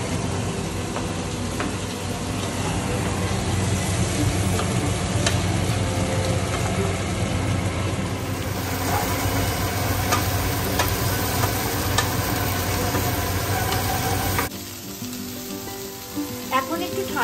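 Garlic and tomato go into a pan of browned onions and fry with a loud, continuous sizzle and occasional stirring scrapes, the hiss easing somewhat in the last few seconds; no talking.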